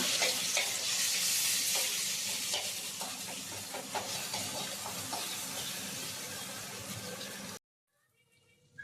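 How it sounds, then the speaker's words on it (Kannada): Curry leaves and tomato fry in hot oil for a fish curry while being stirred, giving a steady close sizzle with scraping stirs, then a sudden silence and a faint clatter at the end. "ಕರಿಬೇವು ಹಾಕಿ ಒಂದ್ಸರಿ ಮಿಕ್ಸ್ ಮಾಡ್ಕೊಳ್ಳೋಣ"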